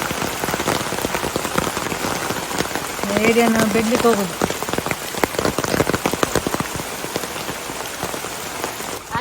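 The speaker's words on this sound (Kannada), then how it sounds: "ಬಿಸಿಲಿತ್ತು ಈಗ ಮಳೆ ಬಂತು" Steady rain patters on a surface beside a stream throughout, with a voice speaking briefly in the middle over the downpour.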